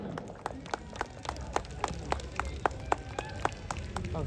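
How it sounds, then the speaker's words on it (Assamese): Applause for performer Jatin Rabha: steady, moderately distant clapping from a crowd, with sharp individual claps standing out at an even rhythm over a low murmuring background. "যতীন ৰাভাৰ কাৰণে ডাঙৰ হাত চাপৰি"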